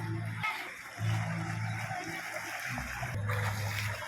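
Faint, steady rushing of water at a beach crossing where fresh water mixes with seawater in stormy weather, a continuous low wash with a tonal hum running beneath it.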